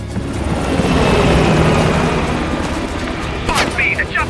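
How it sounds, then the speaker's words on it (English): In the Call of Duty: Black Ops Cold War video game, a helicopter flies off with a loud, dense rotor roar that holds steady, then ends in a sharp burst and some faint electronic tones. "the chopper got away"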